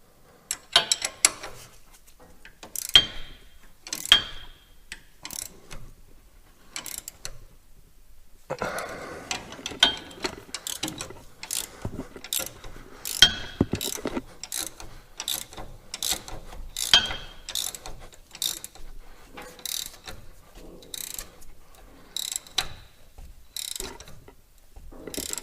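Ratcheting and mechanical clicks as a steering stabilizer lock on a Ford Excursion with a Cummins diesel swap is tightened with a hand tool, a long run of sharp repeated ticks close by, with a brief pause early on.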